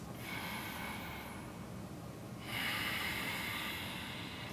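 Slow, deep breaths drawn through the nose during a power yoga pose, soft and close, with a louder exhale or inhale rising near the middle and holding steady.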